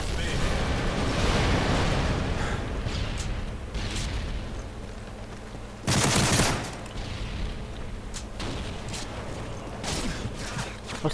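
Gunfire rattles steadily through a Call of Duty: Modern Warfare 3 multiplayer match, with a loud grenade explosion bursting out about midway through the dense, continuous battle noise.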